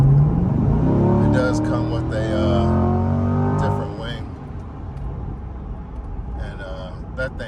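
Chevrolet C8 Corvette Stingray with the Z51 package, revving in sports mode, roaring loudly with rising engine pitch for about four seconds before easing off, with someone talking over it throughout.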